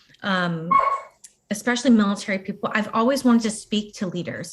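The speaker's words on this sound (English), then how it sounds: "excuse my dog, she's crazy" A pet dog barks in a home during a combat veteran's interview, with yips that are partly masked and heard under steady close male speech.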